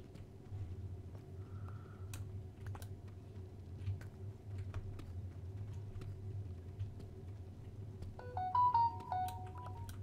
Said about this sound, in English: Ignore the notification that got that in the video.